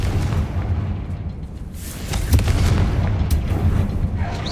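In Hogwarts Legacy the Confringo blasting spell goes off as a loud, deep explosive boom that swells midway and then rumbles on in a sustained low roar, with no voices.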